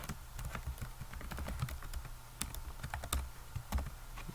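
Rapid, uneven clatter of keys on a computer keyboard as code is typed for a Game Maker Studio project, with close, crisp keystrokes in bursts and no talking.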